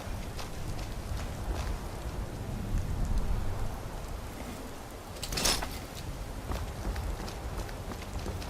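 Rain falls steadily in a video game, a constant soft hiss with scattered footstep-like thuds and a brief louder swell partway through, no voices.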